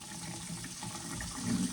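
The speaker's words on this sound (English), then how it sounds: "the first thing is to rinse the pork belly under cool water and to pat it dry with a paper towel" Cool tap water runs steadily into a sink while pork belly is rinsed, a continuous faint splashing flow that swells slightly near the end, no talking.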